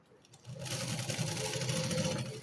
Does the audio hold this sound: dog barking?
no